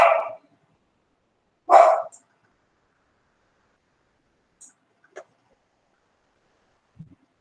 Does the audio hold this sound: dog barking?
yes